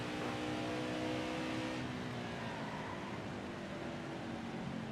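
A race truck engine drones at a steady high pitch on a qualifying lap in NASCAR Heat 5, a continuous loud roar that holds without a break and with no talking.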